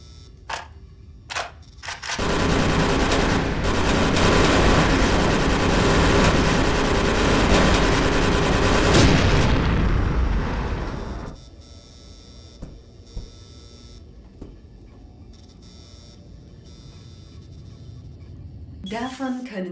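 Gunfire from the video game Scorpion Disfigured, a dense, loud burst of sustained shooting lasting several seconds after a few sharp isolated shots, then cutting off into quieter ambience with scattered faint clicks.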